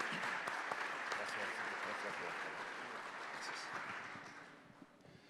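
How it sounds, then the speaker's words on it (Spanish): An audience at an anti-corruption conference applauds to welcome a speaker, a dense steady wash of many hands clapping that fades off over the last second, heard at moderate distance. "Un aplauso, por favor."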